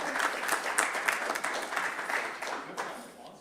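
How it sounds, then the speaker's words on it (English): Applause breaks out at a school committee meeting after a unanimous vote, a small room of people clapping briskly before the sound thins and trails off near the end. "It deserved that applause."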